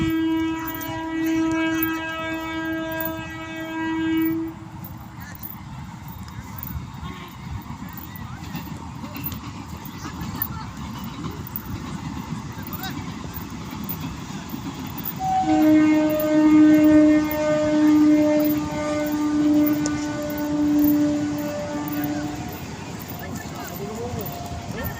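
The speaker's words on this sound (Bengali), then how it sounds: "ট্রেন ঢুকছে, দাঁড়ো।" A train arriving with long, loud horn blasts, one held at the start and another after a pause, over a rumbling rail approach, with people talking close by.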